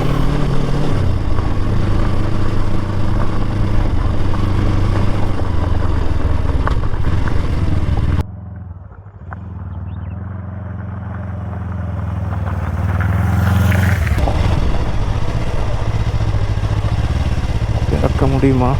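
A Yamaha R3 sportbike engine runs while riding off-road, a loud steady motor drone that drops away briefly then returns and builds, with someone talking over it.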